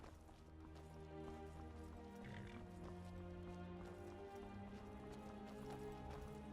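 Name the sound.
horse hooves in a video game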